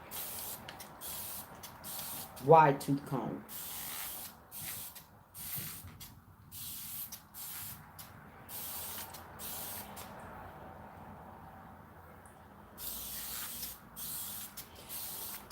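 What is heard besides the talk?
spray bottle spraying hair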